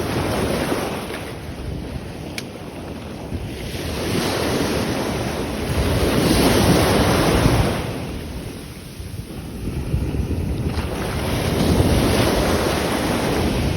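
Rough sea waves surge and crash in repeated swells, loud and close, with heavy wind buffeting the microphone throughout, at the shore during sea bass fishing.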